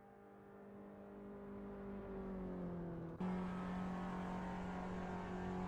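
EnduroKa endurance race car at pre-season testing, engine held at high revs through a corner, a steady loud drone that dips slightly then jumps up in pitch and volume with a gearshift, heard from inside or close by.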